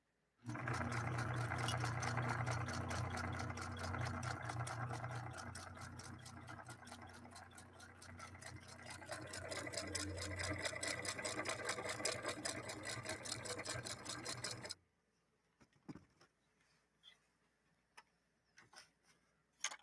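A Singer 9410 sewing machine stitching at speed, a steady rapid ticking drone with a brief easing partway through, running for about fifteen seconds before stopping abruptly into near silence with faint handling clicks.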